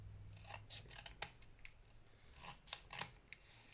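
Scissors snip scrap paper into small scrapbooking banners about 1 cm by 5 cm, with several quiet, close crisp cuts at uneven intervals.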